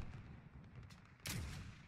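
An AX50 sniper rifle fires once in a video game, a sharp loud broadband crack about midway through followed by a booming low tail, over steady background game noise.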